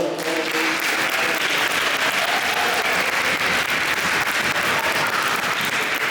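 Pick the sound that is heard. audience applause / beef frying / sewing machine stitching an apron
audience applause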